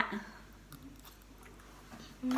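Quiet chewing of mango sticky rice, soft wet mouth sounds and faint squishy bites close by, with a brief voice at the very end.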